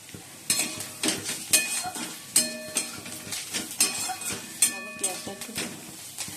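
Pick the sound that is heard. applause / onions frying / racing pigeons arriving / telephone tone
onions frying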